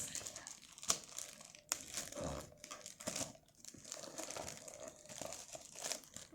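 Plastic wrap and cardboard packaging on a Super Mario 3D World Nintendo game box crinkle and tear in short, close bursts and rustles, with some quiet talk in between.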